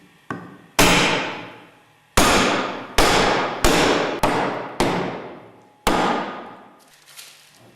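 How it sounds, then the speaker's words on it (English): A mallet strikes the steel closing chamber bottom of a Westfalia OSD separator bowl, driving it down with seven or eight sharp, ringing blows at uneven intervals, each decaying quickly, loud and close with no talking. "Drive the closing chamber bottom downwards using light blows with a mallet."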